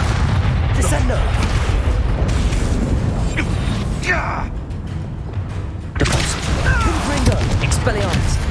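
Spell effect from the Hogwarts Legacy video game as Descendo is cast: heavy booms and thuds within loud, dense combat noise, with a shorter lull before another burst of impacts.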